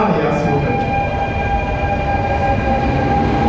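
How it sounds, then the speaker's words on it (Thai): Steady rumble of an RER train departing a station in Paris, with a constant electrical hum and faint tonal whine throughout, loud and close with no pauses. "รถไฟกำลังจะออกแล้วนะครับ"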